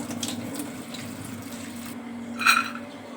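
Cut spinach being rinsed in a basin, a steady close wash of running water with a brief louder splash near the end.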